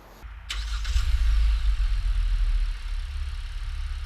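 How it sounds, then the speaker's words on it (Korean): A car engine is cranked from cold after a coolant check. It catches quickly and settles into a steady, rumbling idle, heard up close with no talk. "그리고 이제 시동을 걸어 보겠습니다."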